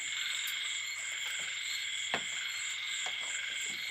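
Frogs croak continuously near rice fields at night, a dense chorus with a few sharper croaks popping out close by, under a steady insect-like hum and no talking.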